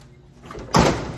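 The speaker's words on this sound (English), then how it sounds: "And it shuts. This door doesn't sag, which is even better." Door of a 1979 Ford F100 pickup truck swings shut with one solid metallic slam after a brief faint creak, close by and ringing out over the quiet outdoors.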